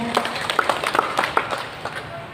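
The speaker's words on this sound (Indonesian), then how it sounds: "Tepuk tangan buat kita semuanya." Scattered, fairly quiet clapping from an audience at a Mother's Day gathering in Trenggalek, with sharp irregular claps and faint voices underneath.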